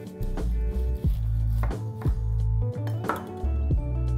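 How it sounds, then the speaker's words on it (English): A knife and utensils clink and scrape against a plate while cutting into a deep-fried Roma tomato stuffed like a pepperoni pizza Scotch egg, with several sharp taps and scrapes close by over a steady low hum. "Let's cut open the deep fried Roma now."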